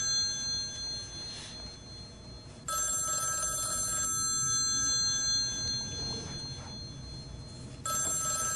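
A telephone rings at 3 a.m. in a political ad, its harsh electric bell sounding in repeated bursts with short pauses between them, clear and alone over a faint background.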